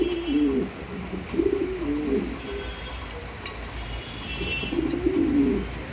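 Fancy show pigeons, king Lahori type, coo in several low rolling bursts close by, with pauses between phrases and faint chirps and ambient noise behind.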